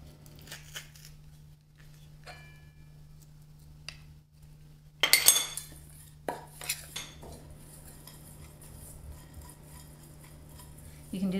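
A utensil clinks and scrapes in a bowl while finely chopped chipotle peppers and minced garlic are mixed in for grilled red-skin potatoes, with scattered soft taps and a busier burst of stirring midway.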